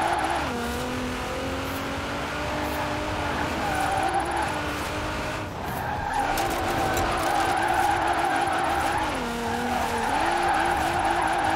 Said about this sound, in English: Now let's really shred those tires.